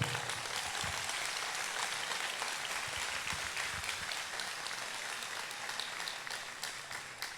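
A crowd at a speech applauds with dense, sustained clapping that continues steadily for several seconds at moderate distance, with no voices over it.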